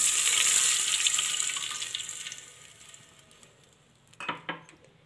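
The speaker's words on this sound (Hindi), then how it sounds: "इसमें अब हम शामिल कर लेंगे दूध। यह रूम टेम्परेचर है।" Room-temperature milk poured into a pan of melted ghee makes a loud bright hissing splash that tapers off over several seconds, followed by a couple of metallic utensil clinks.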